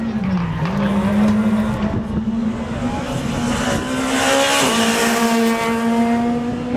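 A rally car runs along a dusty gravel stretch of the Sosnová circuit, its engine drone steady and loud throughout with tyre and gravel noise over it and a brief dip in pitch midway.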